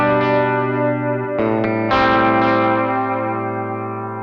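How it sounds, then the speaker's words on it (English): A tape delay effect with its drift control turned up gives sustained, distorted tones a warbly, chorus-like wobble, with repeating echoes smearing each new chord, continuous and fairly loud with no talk. "With a tape drift knob here, which will give you that sort of warbly modulation sounds that you can almost make a chorus out of."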